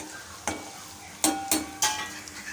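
Lentils sizzle gently while tempering in hot oil, with a few sharp scraping clicks of a spoon against the pan, all fairly quiet and close.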